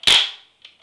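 A single sharp, loud pop from a modified Nerf gun with its air restrictors removed, a quick burst of air that decays over a fraction of a second, followed by a faint mechanical click.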